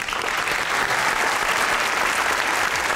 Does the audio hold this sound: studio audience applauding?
yes